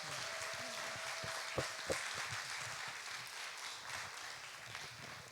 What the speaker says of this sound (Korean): 저희를 위해서 한번 박수 크게 한번 부탁드리겠습니다.